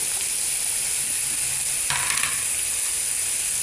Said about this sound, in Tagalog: Hulog na natin the rest ng mga gulay.